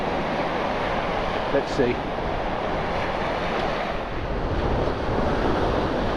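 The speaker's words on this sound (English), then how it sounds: "The wind has increased, the tide's pulling" Strong wind buffets the microphone over waves breaking on a shingle beach at Milford during sea fishing, a loud continuous roaring wash, with a brief spoken remark.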